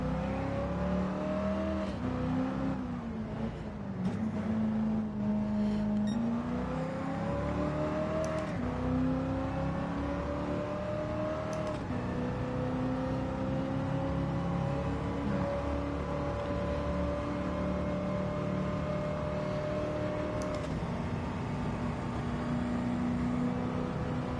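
Race car engine in a racing video game on hard tyres, a steady, loud, whining drone that rises and falls in pitch through upshifts and acceleration over a long continuous stretch with no break.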